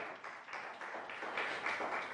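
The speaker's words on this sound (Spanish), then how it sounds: "Denle un aplauso al Señor" A church congregation claps together in a steady, sustained round of applause, fairly faint and diffuse as if heard across the sanctuary.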